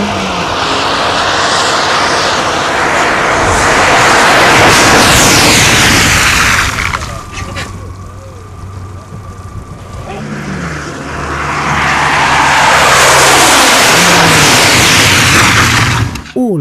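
A car drives past on quieter tyres during an EU tyre noise test, a broad roar that swells, dips in the middle as it passes, then builds again, loud and steady with no talk.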